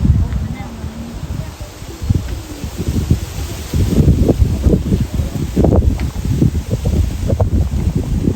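Wind blowing through tall trees on a hillside in Doi Mae U Kho, Thailand, with steady rustling of leaves and gusts that swell and fade, close and moderately loud throughout.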